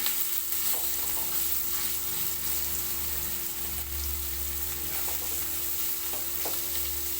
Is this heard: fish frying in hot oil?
yes